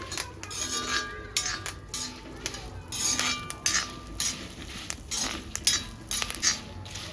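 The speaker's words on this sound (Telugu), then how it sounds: "మీడియం ఫ్లేమ్లో పెట్టుకొని మంచిగా ఫ్రై చేసుకోవాలి ఇవన్నీ." Dried shrimp and spices fry in a pan over medium flame while a metal spoon stirs and scrapes steadily, with soft sizzling under the clattering, close and continuous with no talk.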